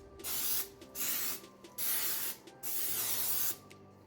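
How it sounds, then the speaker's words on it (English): Four short bursts of cooking spray hiss close by into a baking dish, each lasting about half a second with brief pauses between, over a quiet room hum. "Put some cooking spray in here so nothing sticks."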